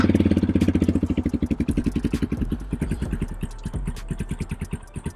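A Yamaha Raptor 250 ATV engine starts up and settles into a rapid, steady idle, loud and close with even pulsing firing beats that slow slightly and loosen toward the end.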